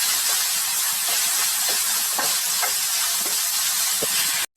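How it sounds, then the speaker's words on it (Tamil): Chopped tomato sautés in a pan for a prawn curry, giving a steady loud sizzling hiss with faint stirring taps, then cutting off abruptly. "ஒரு பெரிய தக்காளி 1 போட்டுக்கோங்க. கட் பண்ணி சேர்த்துக்கோங்க. நல்லா வதக்கிக்கோங்க."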